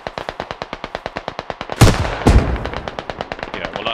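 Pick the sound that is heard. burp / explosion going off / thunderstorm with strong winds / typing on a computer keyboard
explosion going off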